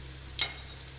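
Cardamom, cinnamon and fennel hit hot oil in a pan for tempering, giving a short, sharp crackling burst that quickly fades to a faint sizzle over a steady low hum.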